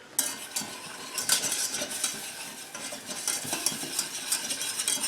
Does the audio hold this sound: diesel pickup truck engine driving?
no